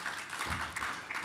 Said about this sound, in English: A round of applause for him once again.